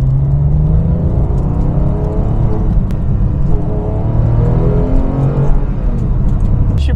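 Porsche 911 996 GT3 engine on the move, a loud, continuous low mechanical drone and rumble from inside the car, with rising and falling tones as it revs through the gears.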